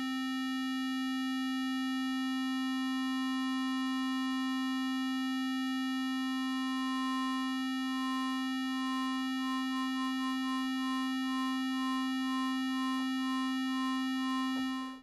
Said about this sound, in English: I'm on a sine wave here. I've got a rate at about halfway, and then if I apply this, you should start to hear that movement in the sound.